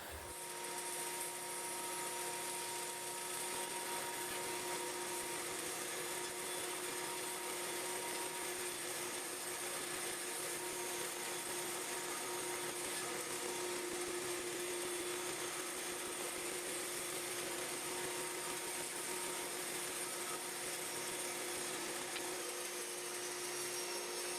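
Power sander working the long wooden ribs of an oud bowl on a workbench, a steady continuous whine with broadband hiss running unbroken and fairly loud for the whole stretch, no talk over it.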